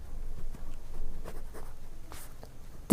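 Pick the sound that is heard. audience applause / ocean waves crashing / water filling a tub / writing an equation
writing an equation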